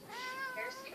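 House cat giving a single short, clear meow, close and fairly soft, with a rising then falling tone and nothing else around it.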